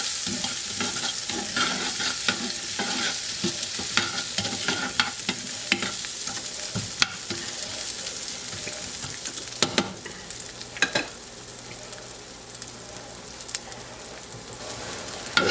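Onions softening as they fry in a pan for an Easter lamb dish, a continuous close crackling sizzle with scattered clicks and stirring scrapes throughout, no voices.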